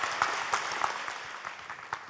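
An audience at a lecture hall applauds to welcome a speaker, a soft, even spread of clapping with a few louder claps standing out, heard at moderate distance.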